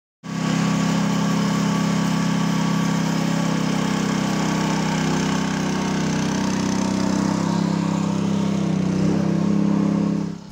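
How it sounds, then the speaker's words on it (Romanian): A portable motor pump runs steadily and close for about ten seconds while pumping flood water at a flooded market area, a constant buzzing engine drone with no voices. "un echipaj operativ cu o autospecială și o motopompă transportabilă s-a deplasat la fața locului"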